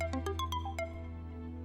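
A short electronic ringtone plays a quick run of bright beeping tones, then trails off over a steady low hum.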